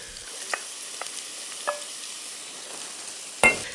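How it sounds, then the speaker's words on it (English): Finely sliced onion sizzling as it fries in a pan, a soft continuous crackle with a few sharp stirring clicks and scrapes, the loudest near the end. "Love the sound of the sizzle."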